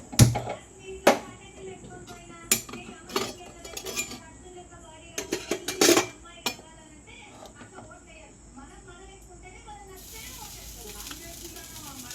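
Spoonfuls of rice land in a bowl of egg fried rice with a string of distinct clinks and scrapes of a spoon against the dish, close by, while a voice talks quietly in between.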